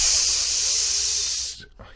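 A voice imitates the hiss of an aerosol body spray being sprayed in someone's face: a steady, loud hiss lasting about one and a half seconds that then cuts off, followed by a faint breathy trace.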